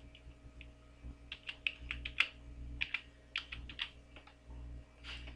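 Typing on a computer keyboard to enter a password: a quick run of soft, close key taps in uneven clusters over faint electrical hum, fairly quiet and with no voices.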